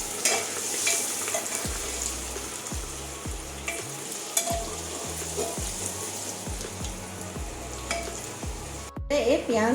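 Crushed ginger, garlic and cardamom fry in a pan for an Assamese chicken pulau, a steady sizzle broken by repeated scraping stirs and a few low knocks, louder bubbling toward the end.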